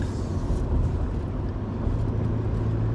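Car driving on a road on the way to work, a steady low engine and road rumble heard from inside the vehicle, continuous and fairly loud with no talking.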